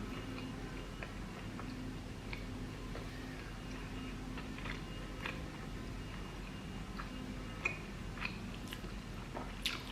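Steady close-up chewing and biting of medium-well filet mignon steak, soft wet mouth sounds with small clicks repeating throughout, no talking.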